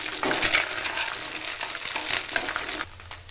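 An egg sizzles in hot oil in a pan while being stirred for egg noodles, giving a steady, close crackling hiss with soft scraping that eases slightly near the end.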